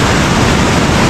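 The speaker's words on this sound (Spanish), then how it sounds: "Cuidado. Ahí está el tumbo," Breaking surf at a river mouth during cast-net fishing, a steady loud wash of rushing water filling the short stretch without voices.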